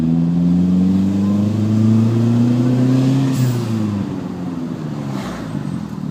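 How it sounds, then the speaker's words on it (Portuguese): A car engine revs hard and loud up close, its pitch climbing steadily before easing off into a lower, rumbling drone. "Ele tá acelerando muito essa porra."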